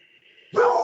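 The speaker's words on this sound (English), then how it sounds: "that's my dog barking" A single dog bark bursts in close and loud after a quiet stretch of faint tonal background hum, filling the last half of the short moment alone.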